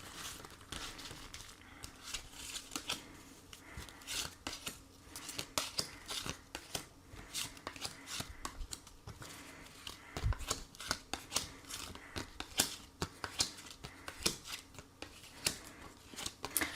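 Tarot cards are shuffled and handled close up, with continuous soft crinkling, flicking and sliding card noise in irregular bursts, quiet and without speech.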